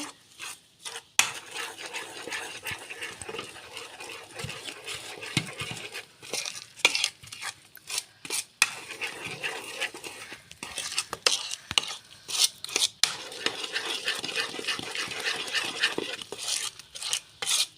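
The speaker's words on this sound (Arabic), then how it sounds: "نقلب كده" A spoon stirs cake batter in a bowl, scraping and clinking against the sides in steady, uneven strokes with sharp taps now and then, close and fairly quiet throughout.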